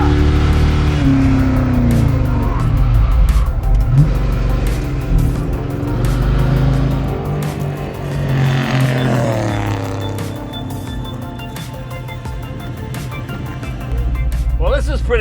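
A 1963 Rambler race car drives and accelerates, its engine note rising and falling close by, while people talk over it throughout.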